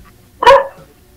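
A dog gives a single loud, close bark against a quiet background.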